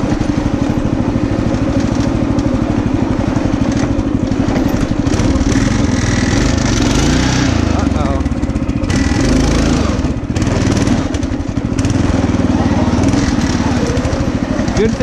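Small engine on a homemade motorized lawn chair runs with a rapid, buzzy putter like a lawn mower, close and loud for the whole stretch, its pitch rising and dipping slightly as the throttle shifts.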